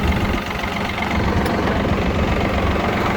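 Yanmar F220 22-horsepower Japanese tractor engine idling steadily after starting, a continuous close, loud low diesel rumble with a fine rapid knock throughout and no talk.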